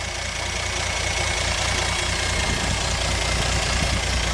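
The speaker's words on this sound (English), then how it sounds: "that exhaust leak's terrible, but her vacuum leak" A 1957 GMC truck engine with an exhaust leak idles close by, a loud, even rumble with a rough, hissy edge that holds steady throughout with no talking.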